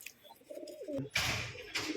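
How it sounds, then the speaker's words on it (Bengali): A female Madras pigeon coos nearby, low rolling calls sliding in pitch, followed by a rustle of movement. "একটা সিঙ্গেল ম্যাড্রাস মাদি পায়রা রয়েছে আপনারা দেখুন"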